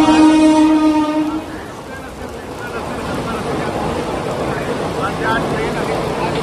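A Mumbai train sounds a loud, sustained horn at the start, then its wagons rumble and clatter steadily past nearby on a rainy day, with a voice speaking over the rail noise.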